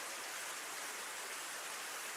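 Steady pouring rain in a video game at night, a dense, even hiss with no breaks, fairly quiet and with no talk over it.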